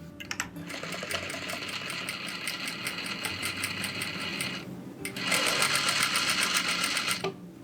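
A sewing machine runs fast through loose-weave dress fabric at a short stitch length, giving a loud rapid rhythmic whir in two bursts with a brief break between them.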